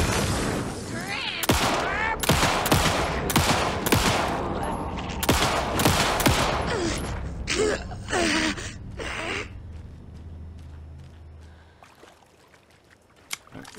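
Gunfire in the video game Alan Wake 2: a rapid string of sharp, loud shots in uneven bursts, followed by a few quieter scattered reports as the action dies down, with gasps and brief vocal noises between.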